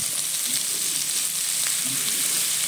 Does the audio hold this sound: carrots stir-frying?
yes